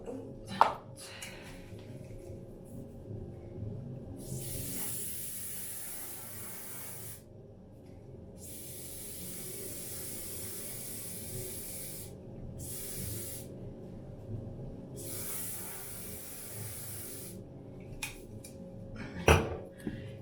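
Several long hissing bursts of aerosol hairspray, each lasting a few seconds with pauses between, over a quiet background with occasional small clicks.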